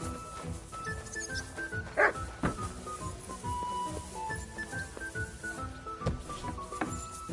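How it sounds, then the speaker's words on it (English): A dog in the video game Kingdom Come: Deliverance II, barking in repeated short yips and whimpers at moderate distance over a steady game background, with brief game dialogue nearby. "You silly doggy."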